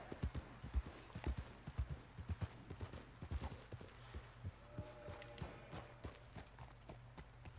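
Horse hooves clip-clopping as a horse is ridden in the video game Red Dead Redemption 2, a fast, close rhythmic run of hoofbeats that slows and softens toward the end, with a faint game tone behind.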